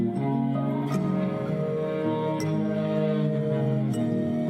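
A homemade cello made from old guitar strings, a fence post and a tin can, bowed in sustained, buzzy low notes that shift pitch a few times, played up close and steady with no talking.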